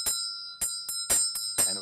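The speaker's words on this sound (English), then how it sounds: "Or also the bell is played." A small metal ritual bell used in Tantric Buddhist practice rings in five or six bright, clear strikes with a steady lingering tone between them, close and alone.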